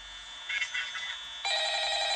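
In the horror game Five Nights at Freddy's, an electronic telephone ring buzzes steadily and moderately loud, growing brighter partway through and carrying on to the end without a break.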